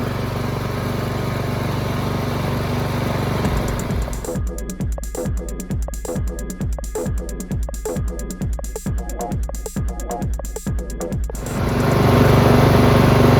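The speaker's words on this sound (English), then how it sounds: "Engine sounds fantastic, no hesitation." A small Husqvarna lawn tractor engine idles, then chugs steadily in a rapid, regular pulse for several seconds before settling back to a smoother running drone, with no hesitation.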